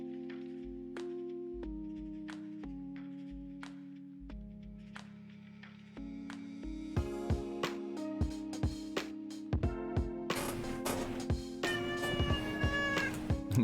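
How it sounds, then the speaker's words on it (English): A cat meows in the background over a synthesized game soundtrack of stepped electronic tones and rhythmic clicks, the meowing faint under the music. "You might hear Tiberius meowing in the background."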